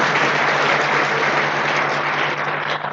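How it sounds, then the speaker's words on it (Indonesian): Audience applause in a meeting room for attendees of a presentation, steady and continuous throughout, filling the space evenly before tapering slightly at the end. "Jadi kita beri tepuk tangan untuk teman-teman yang memutuskan hadir di ruangan ini."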